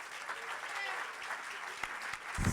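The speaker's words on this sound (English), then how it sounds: "Another round of applause for Stacy." Steady applause from a crowd at an awards ceremony, clapping continuously at moderate volume throughout.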